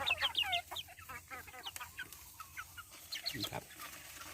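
Free-range farm chickens cluck in a busy, irregular chatter nearby, with a few louder calls rising from the flock.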